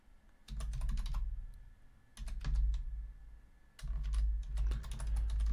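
Keys clatter on a computer keyboard as text is entered into the KeePass password manager, in three close, quick bursts of keystrokes separated by short pauses.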